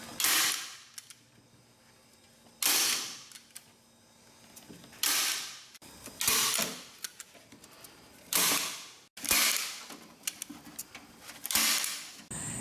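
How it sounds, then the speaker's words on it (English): A big heavy-duty stapler drives staples through wire mesh into oak for a garden hod, giving six or seven loud, sharp bangs spaced about every one and a half seconds, close up with no talk. "To finish installing this wire mesh, I'm going to use a big heavy-duty stapler."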